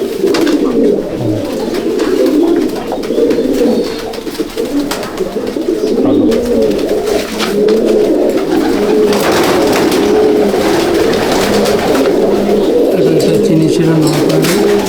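Pigeons in a loft housing Chennai, Coimbatore and imported racer breeds, cooing close by in repeated low, throaty bursts that overlap steadily throughout, with faint talk in the background.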